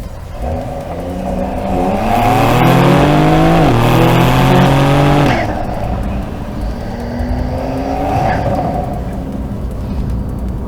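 A modified Porsche 911 Carrera GTS engine revs up with rising, climbing pitch, then drops off and settles into a steady rumbling idle, close and loud.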